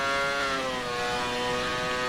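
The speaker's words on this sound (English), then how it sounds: "Such a weird noise in these cars when they go up a gear." A race car engine in a sim racing game, Belgian GP, revs high with a steady harmonic whine, then dips briefly as it shifts up a gear and climbs again. Loud and continuous, heard alone without talk.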